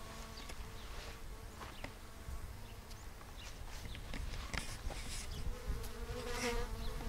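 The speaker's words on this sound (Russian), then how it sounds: "Пчелки уже опыляют все." Bees buzz softly but steadily around a blossoming nectarine tree in a spring garden, several insects droning near and far with no voices.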